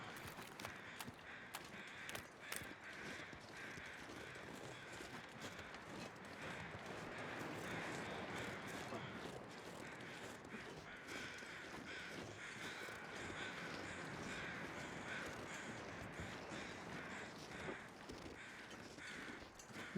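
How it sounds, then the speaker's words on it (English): Crows cawing repeatedly in the survival video game The Long Dark, harsh calls overlapping and recurring throughout over steady wind-like ambient noise, fairly faint and distant. "There's some more crows."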